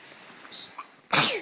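A single loud, close sneeze erupts after a brief quiet inhale, bright and explosive, then fades.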